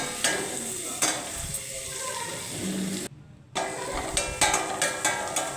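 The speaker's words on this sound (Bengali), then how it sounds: "এরপর আমি গ্যাসে তেল গরম করে মশলাগুলি ভেজে নিচ্ছি, ভালো করে ভেজে নিচ্ছি।" Spices frying in hot oil on a gas stove for chicken curry, a continuous sizzle broken by sharp stirring knocks and clatters, with a brief drop to near quiet partway through and no one talking.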